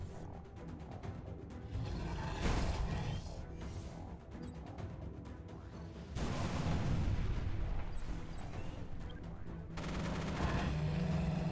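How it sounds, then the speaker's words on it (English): Mechs fire volleys of missiles in the Mech Armada video game, sounding as dense rapid bursts of gunfire and explosions in several loud waves with no talking. "And then we can just fire missiles."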